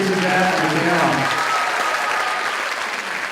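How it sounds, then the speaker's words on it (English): A room of audience members at a benefit concert for Puerto Rico and the Caribbean bursts into loud, dense applause for the musicians, which holds strong before gradually tapering off. "Let's give a round of applause for the musicians up here."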